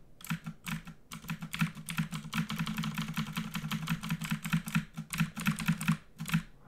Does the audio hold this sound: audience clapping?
no